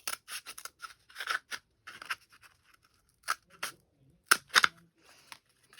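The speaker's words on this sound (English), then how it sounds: "So take one of your toilet paper rolls and cut it" Scissors snipping through a cardboard toilet paper roll, close and crisp, in irregular clusters of short cuts with brief pauses between them.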